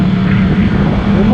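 A Yamaha MT-10 motorcycle with a crossplane engine and an aftermarket exhaust gives a steady, loud, close engine drone with a deep, even hum, unbroken throughout.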